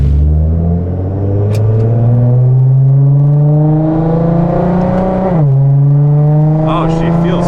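A Nissan R35 GT-R engine drones loud and close from inside while driving, a steady tonal hum rising gradually in pitch, then a brief gear-change dip before continuing.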